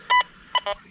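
Deus 2 metal detector giving iron-target tones around an older house: a few short, sharp electronic beeps in quick uneven succession, loud and close, with no talking.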